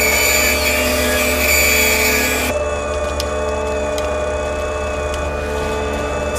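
A drill grinds steadily at a vault, a loud sustained mechanical whine with a constant tone that drops to a thinner running hum partway through, with no voices.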